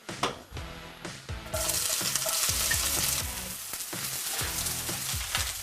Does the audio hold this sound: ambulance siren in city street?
no